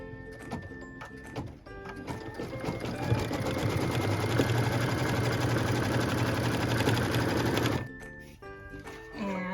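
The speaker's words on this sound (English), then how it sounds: "we're stitching our tack down line for piece number 2" An embroidery sewing machine stitches a tack-down line on a quilt block piece, a fast steady mechanical whir and rattle lasting about six seconds, with quieter handling noises before and after.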